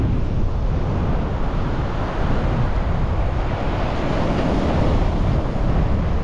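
Wind gusts heavily across a beach while sea fishing, a loud steady roar of buffeting wind over the mic mixed with surf, with no talk.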